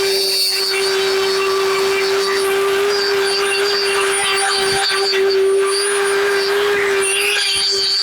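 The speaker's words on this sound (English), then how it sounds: "I'll just run that sander over there a little bit as well." A power sander runs over a wood carving of a sitting fox on a post, a continuous steady whine with a strong sustained tone, held at an even level throughout.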